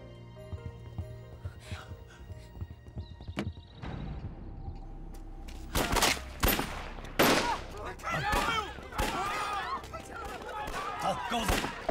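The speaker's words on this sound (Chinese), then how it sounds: "怎么有枪声啊？" Sharp gunshots crack out in a Chinese wartime drama set during the war against Japan, several loud isolated bangs that break into hurried, alarmed talk between people.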